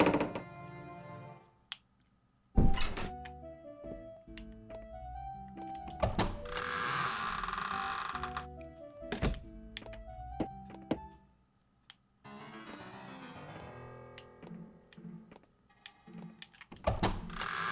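Door opening in the video game Shadowgate 64, a sequence of heavy thunks, creaks and mechanical clanks with tonal game sound effects between them, separated by a short silence.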